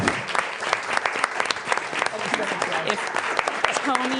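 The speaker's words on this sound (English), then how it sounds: "We'll get some applause here for them." Applause fills a city council meeting room, a steady patter of many hands clapping at moderate volume, with a voice speaking over it near the end.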